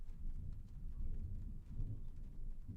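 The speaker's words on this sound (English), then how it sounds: "It seems rather unpleasant outside." Rain and rumbling thunder outside in the game Truberbrook, a dense low storm roar with steady rainfall over it, moderately loud and unbroken, with no talking.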